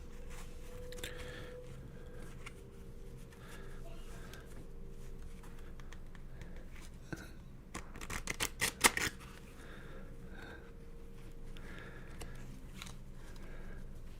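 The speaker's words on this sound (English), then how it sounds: "Shuffling the cards up here." Playing cards riffled and shuffled close up, a quick flurry of crisp flapping clicks midway, with quieter handling of the deck before and after.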